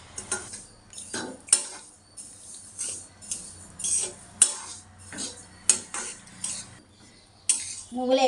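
Sesame seeds roast in a dry pan as a spoon stirs them, making repeated scraping strokes and metallic clinks in an irregular rhythm, close and fairly loud, with a faint rustle from the seeds.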